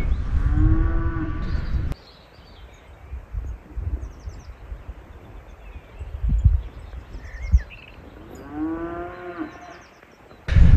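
Cows moo in two long, deep, loud calls near the start and end, separated by quiet outdoor rustling and faint bird sounds.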